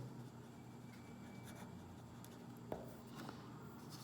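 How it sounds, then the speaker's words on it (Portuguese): During a lecture, a pen writes quickly, and faint scratching and tapping sound against quiet room noise. "estou escrevendo aqui mais rápido para poder adiantar aí o exemplo"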